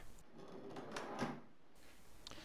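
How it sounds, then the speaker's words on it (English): A drawer on full-extension vertical DIY slides glides into a cabinet, giving a faint, soft sliding rumble that swells briefly in the middle before fading in a quiet room. "it should slide easily in and out of the cabinet"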